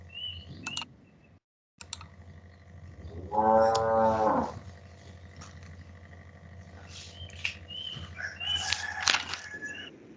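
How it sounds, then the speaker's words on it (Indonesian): A cow gives one loud, drawn-out moo midway through, heard in the background of an online class; a rooster crows more faintly toward the end, over a quiet room hum. "Ada sapi ya di belakang sana."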